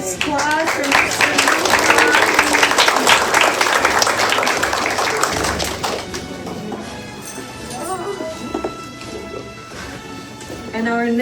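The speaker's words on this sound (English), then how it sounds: "A big round of applause" Applause and clapping from a crowd at a kindergarten graduation ceremony, loud and sustained, fading slightly toward the end while voices talk and cheer over it.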